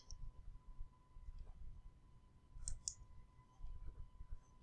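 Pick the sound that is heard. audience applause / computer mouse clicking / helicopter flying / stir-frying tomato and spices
computer mouse clicking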